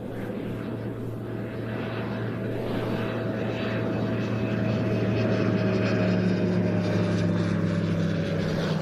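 A Grob 520 NG, a high-altitude long-endurance aircraft developed in the early 1980s, flies past during air show arrivals, giving a steady propeller drone that swells gradually louder across the whole stretch with no voices.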